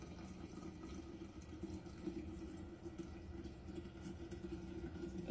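Hot chicken broth is poured slowly into a fat separator, a faint, steady liquid trickle that runs unbroken for several seconds with no talking.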